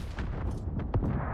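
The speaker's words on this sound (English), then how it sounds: "That is Wisconsin guns for you." Heavy naval guns of the battleship Wisconsin boom in a naval combat game, a few deep, loud concussive blasts rolling over one another within a second or so.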